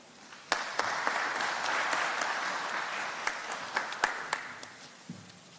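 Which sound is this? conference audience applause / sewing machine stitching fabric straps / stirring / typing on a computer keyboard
conference audience applause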